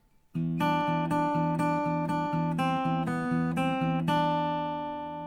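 A solo guitar plays a steady pattern, low bass notes alternating with higher melody notes at an even tempo, clear and close.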